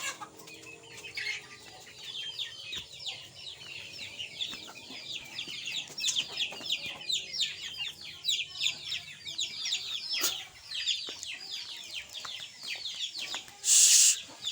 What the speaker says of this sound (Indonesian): Jadi semua ayam-ayam di sini tidak ada yang di dalam kandang.